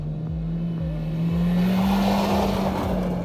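A Volkswagen Taigun's engine holds a steady, sporty drone that swells slightly in pitch and loudness under acceleration, heard from close up without talk.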